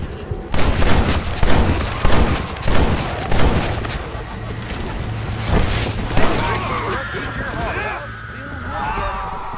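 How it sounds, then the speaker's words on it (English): A rapid volley of gunshots in the Western video game Red Dead Redemption, sharp loud cracks firing in quick succession, then a lighter rattle and fading echoes with game sounds trailing. "When you fire your weapon, you will automatically take out every target that you selected in one swift gunslinging massacre."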